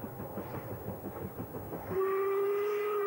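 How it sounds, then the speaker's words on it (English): A steam locomotive on the Fort William to Mallaig line chuffs rhythmically, then a loud, sustained steam whistle blows, clear and fairly close. "sounds of steam."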